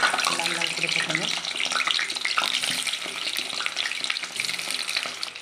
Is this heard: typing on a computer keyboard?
no